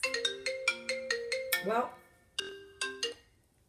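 A phone ringtone plays a repeated bright electronic melody of quick plucked notes, loud and close, with a brief spoken word in the middle before the tune resumes.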